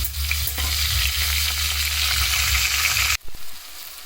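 Onions and ginger garlic paste sizzle steadily in a pan, a close, loud hiss that cuts off abruptly near the end, followed by a few soft knocks as tomato goes in; nobody speaks.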